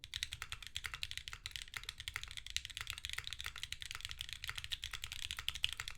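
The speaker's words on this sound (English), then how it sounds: "next up we've got the typing test. So, like I said, DCS larges on aluminum in the Cappy 60." Rapid, steady keystrokes on a Cappy 60 keyboard with DCS keycaps and an aluminum case, a close, crisp clatter of many quick key presses running without pause and with no voices.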